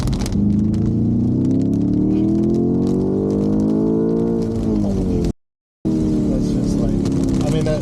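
A BMW M5 Touring wagon accelerates hard on a wet road, its engine note climbing steadily in pitch through a low gear with tyre and road hiss, then cutting out briefly before resuming, while a person talks over it.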